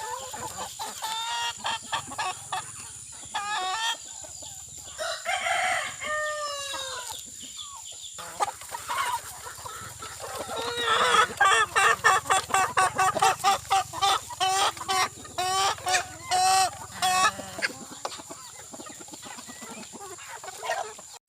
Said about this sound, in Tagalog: Di pa umuwi yung ibang manok.